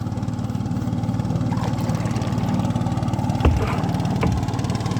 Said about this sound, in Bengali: এই যে আমার পিছনে একটা ট্রলার আসছে